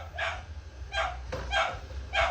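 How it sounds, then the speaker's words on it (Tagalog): Dog barking during motorcycle troubleshooting on a Yamaha SZ, four evenly spaced sharp barks over a low engine rumble, moderately distant and fairly quiet. "Ang ingay ng aso."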